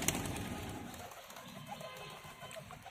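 Pet pigeons in a home loft coo softly and faintly, with a few low calls scattered over quiet background noise.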